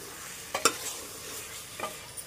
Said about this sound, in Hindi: मटण चांगलं ढवळून घेऊया आपण।